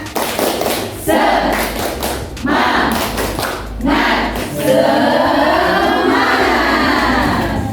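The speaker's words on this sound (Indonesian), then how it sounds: "Tepuk semangat." A school class performs a rhythmic spirit clap, with loud synchronized bursts of claps and thumps in repeated patterns, then breaks into shouting and chanting voices.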